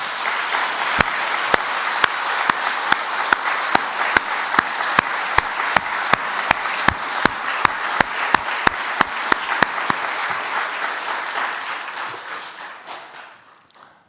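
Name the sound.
congregation applause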